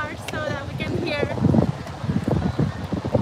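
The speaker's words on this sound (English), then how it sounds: "Very windy." Strong wind gusts at a beach in Salvador, Brazil, rumbling and buffeting the microphone throughout, with people talking over it.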